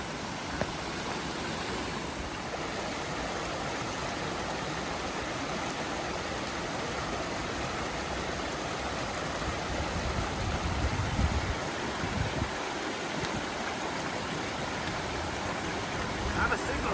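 Oak Creek flows along the Lost Coast in Northern California, a steady, even rush of running water that fills the whole clip, with faint voices here and there.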